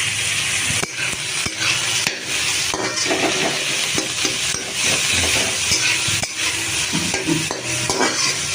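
Onion and tomato fry in a pan, a steady loud sizzle broken by repeated scraping knocks as a utensil stirs them. Firm tomatoes are being softened, and no one speaks.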